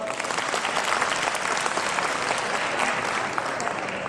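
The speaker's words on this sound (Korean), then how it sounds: "한 분 한 분 소개해 드릴 때마다 큰 박수로 환영해 주시면 감사하겠습니다." Loud, dense applause from the audience at a municipal badminton tournament opening ceremony, a continuous roar of many hands clapping close by without pause.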